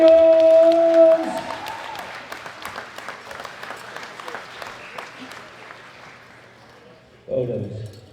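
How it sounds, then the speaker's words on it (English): Applause breaks out at a men's open 120+ kg classic powerlifting world championship after a lifter's deadlift total is announced, starting loud with a voice over it, then thinning to scattered claps that trail off as talk resumes. "Big round of applause for Big Ray"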